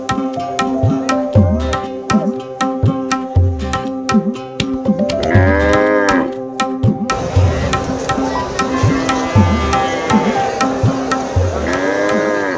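Cattle at a busy livestock market in Bogura moo repeatedly, loud nearby calls overlapping with other animals amid constant crowd bustle and scattered voices.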